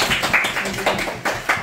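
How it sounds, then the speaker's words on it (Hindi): Applause for Renuka at a cake baking workshop in Germany: a short burst of close, quick clapping from a small group, with soft chatter underneath. "सो एक बार तालियां तो बनती है रेणुका के लिए।"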